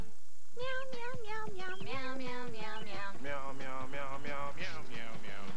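A rapid run of meows strung into a bouncy, tune-like jingle for Meow Mix cat food, each one short and close, repeating throughout.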